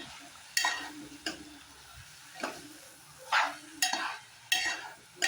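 A spoon stirring cabbage curry in a pot, with scraping strokes coming at an irregular rhythm, roughly one every second. Each stroke is a brief, fairly close scrape over a soft background of cooking noise, with no talking.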